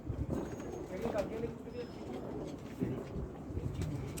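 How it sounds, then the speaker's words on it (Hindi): Kala jeera pigeon cooing, low soft coos under nearly continuous nearby talk by men. "काला जीरा कबूतर है जी।"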